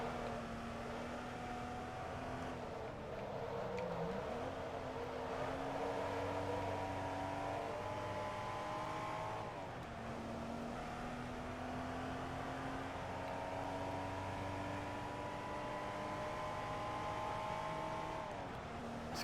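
A Porsche 914/6 engine in the racing game Forza Motorsport 2 drones steadily at high revs, its pitch climbing through each gear and dropping sharply at the shifts, loud and continuous with no talking.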